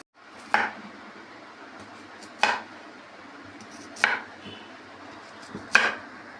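Four sharp knife strokes cutting radish land on a cutting board at a steady, unhurried pace, with faint kitchen rustling between them and no voices.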